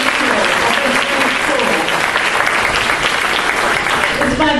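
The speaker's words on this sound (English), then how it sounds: "Let's give Mrs. Harris a round of applause for being such a great leader of this great" Sustained, loud clapping from an indoor audience at a school reopening ceremony, steady and dense throughout with a faint voice beneath it.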